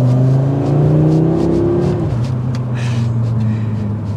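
A 2024 Audi RS3 sedan accelerates hard, its engine note climbing steadily and loud before dropping as it shifts, then pulling again, heard close with no talking.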